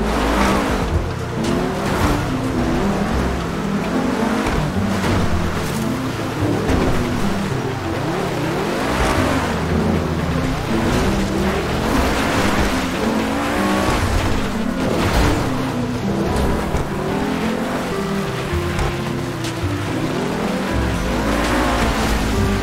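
A car in GTA 5 races flat out with a steady, loud engine roar and repeated tire squeals and skids over the whole stretch, with no talking.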